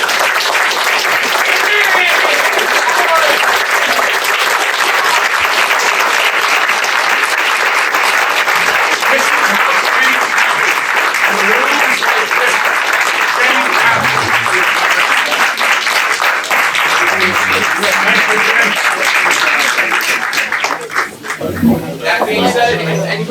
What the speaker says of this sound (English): I would like us, if it's okay with you, to all stand and give Jim Wagner and each and every one of us a round of applause